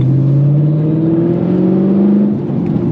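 A car engine revs and climbs in pitch, then eases off, a loud, close whirring drone lasting a few seconds with no talk over it.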